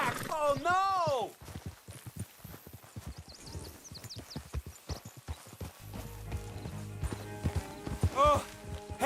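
Horse hooves clip-clopping at a run, fading into galloping steps, with a horse whinnying near the start and again near the end, from Red Dead Redemption 2; someone shouts and talks over the hoofbeats.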